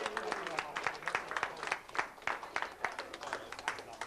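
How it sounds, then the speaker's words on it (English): Audience at a 1990 pinball owners' convention applauding, a steady, dense wash of many hands clapping close by for several seconds, with no talk over it. "We should really give Barbara, our organiser, a big round of applause"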